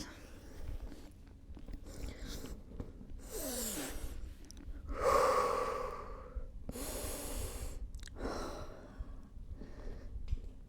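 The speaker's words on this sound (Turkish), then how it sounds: "Nefes alıp ver." Slow, deliberate breaths in and out during a stretching exercise in a de-bloating workout, several long, airy inhales and exhales up close, with faint rustling and movement between them.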